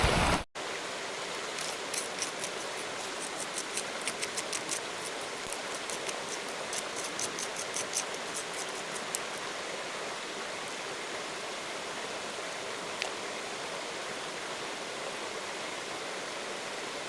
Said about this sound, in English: We got the mega sluice going.